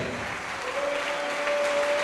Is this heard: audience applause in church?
yes